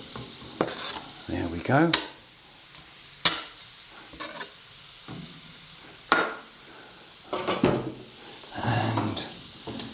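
Cold sausages go into a pan on a Portuguese wood stove: a quiet sizzle broken by several sharp clacks and scrapes of turning and stirring, with a brief spoken remark.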